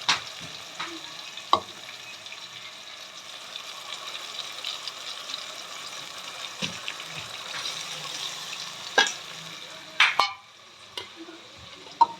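Spices such as turmeric, coriander and cumin fry in a pan with a steady broadband sizzle, broken by several sharp stirring scrapes and clinks, with no voices.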